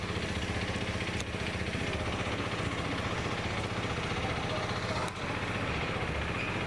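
A TVS Apache RTX 300 motorcycle engine idles steadily and loudly up close, a continuous rumbling drone with a couple of brief clicks, no voices.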